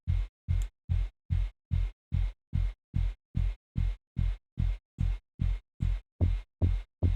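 A sub bass synth in Ableton 11 plays on its own as an even series of short, deep thumping notes, each one quickly fading, repeating at a steady pulse.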